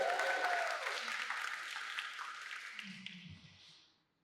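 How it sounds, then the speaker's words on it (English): An audience at a fellows' reading at the George Washington Carver Museum claps in a burst of dense applause that starts loud, thins out and fades to silence over a few seconds, with a faint voice near the end. "please, a round of applause for Alan Portery, Jeremy Brown, Nina Barber Payne"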